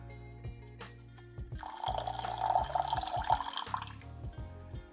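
Water poured from a container into a pot on the stove holding sugar for caramel, a steady close splashing stream lasting about two seconds amid low kitchen noise.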